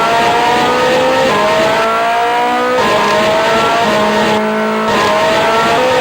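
Harsh, buzzy racing-game engine tones from a Lexibook TV Game Console plug-and-play unit whine and shift pitch continuously, with brief squealing effects, loud and synthetic, no talking.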